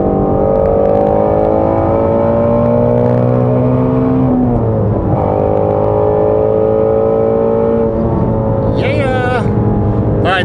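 A 2017 Ford Mustang GT350R accelerating at full throttle in a top-speed pull, its loud engine roar rising steadily through the gears with a brief dip at a shift, heard from inside the car.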